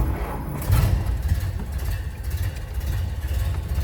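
1931 Ford Model A engine turning over and settling into a low, steady idle, with a rough rumbling chug that continues evenly, close and moderately loud.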